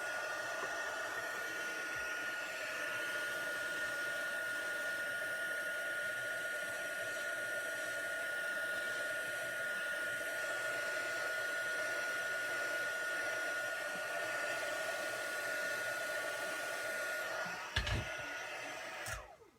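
A heat embossing gun blows hot air across a card base for an anniversary card, a steady loud whoosh holding for about seventeen seconds before cutting off with a brief clatter.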